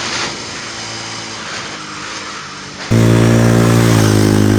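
A Bajaj Pulsar 250 motorcycle rides on a race track, first with a wind-rushed engine hum, then a sudden loud, close, steady droning engine note held at high revs.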